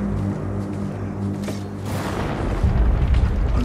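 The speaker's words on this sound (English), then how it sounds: "Destroy the siege weapon." A siege weapon blows up in the video game Ghost of Tsushima: a deep, rumbling boom that swells partway through and rolls on over sustained low game noise, with no voices.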